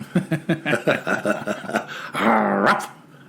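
A person imitates a growling demon dog with a series of rhythmic guttural barks and snarls, ending in a drawn-out, rising vocal growl, loud and close.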